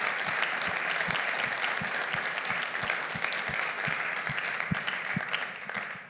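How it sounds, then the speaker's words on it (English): An audience gives a panel a steady round of applause after a special-event conversation, dense even clapping that holds at a moderate, slightly distant level for several seconds with no talk. "I think a round of applause is in order for this"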